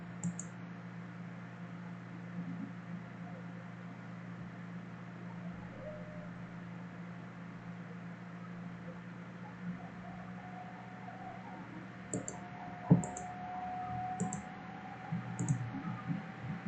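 A computer mouse clicks a few times, soft and close, in a short cluster near the end, over a steady low electrical hum in an otherwise quiet room with no talking.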